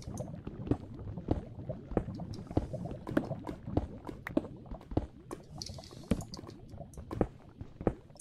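Lava dripping in the Minecraft video game, heard as a steady run of faint, crisp drip ticks over a soft bubbling, gurgling liquid bed.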